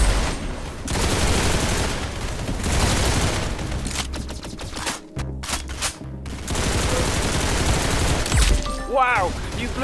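Gunfire in the Roblox Arsenal game, bursts of rapid shots under a busy mix of game sounds with a few brief gaps, ending in a rising whistle-like tone.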